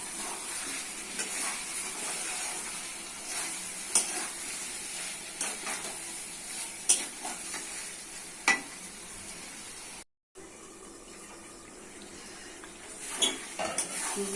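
Chicken and fried potatoes stir-fried in a pan with spices, a steady sizzle under repeated clinks and scrapes of a metal spatula against the pan, with a brief dropout near the end.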